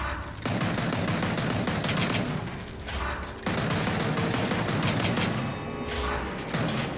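Rapid gunfire in the video game Gears of War 4, loud sustained bursts of automatic fire broken by brief pauses, with dense clattering and crashing effects throughout.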